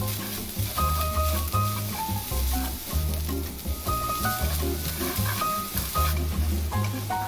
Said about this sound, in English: Mix seasoning and noodles well.